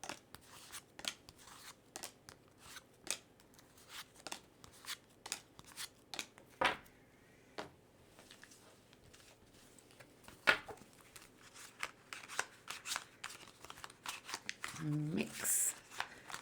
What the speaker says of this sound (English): Mix up these cards, these energies